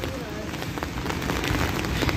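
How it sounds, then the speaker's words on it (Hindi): Steady rain falling outdoors, a dense continuous hiss with scattered drop impacts that grows slightly louder, fairly close, with no clear speech over it. "बारिश जब स्टार्ट हो जाती है ना तो फिर रुकने का नाम नहीं लेती"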